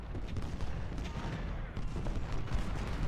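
Massed musket gunfire and cannon fire roar continuously in an Ultimate General: Civil War battle at Washington, a dense, steady rumble of overlapping shots and booms with no clear gaps.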